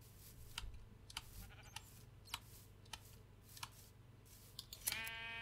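Sheep on a grassy hillside give a short bleat near the end, preceded by scattered soft rustles and light clicks over low outdoor background noise; the bleat is fairly faint and fleeting.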